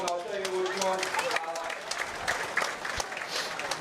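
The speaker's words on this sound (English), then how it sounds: "If you could, give them a round of applause" Applause for children showing animals at a county fair livestock show, a steady crowd clapping throughout with an announcer's voice talking over it.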